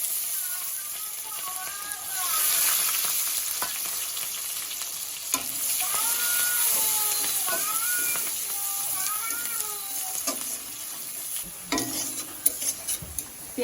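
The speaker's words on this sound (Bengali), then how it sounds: "পেঁয়াজ রসুনটা লাল লাল করে ভেজে নিয়েছি।" Onion and garlic frying in oil in a pan for a rohu fish curry give a continuous close sizzle with repeated stirring scrapes and clinks, swelling and easing as the spatula moves.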